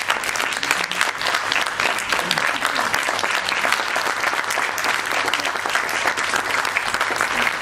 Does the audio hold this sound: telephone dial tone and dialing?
no